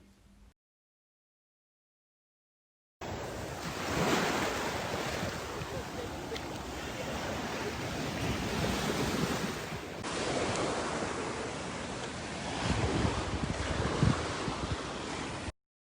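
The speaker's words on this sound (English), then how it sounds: "Of course, my first stop is the beach." Ocean surf rolling onto a beach in Barbados, with steady wind buffeting the microphone; the broadband roar starts abruptly after a few seconds of silence and holds loud and continuous to the end.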